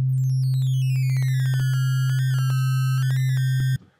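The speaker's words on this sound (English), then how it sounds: "So we have a Redux sine wave" Low C2 sine wave passed through Ableton's Redux bitcrusher, a constant buzzy electronic tone with gritty aliased overtones sliding and stepping above it, alone and loud for nearly four seconds before cutting off abruptly.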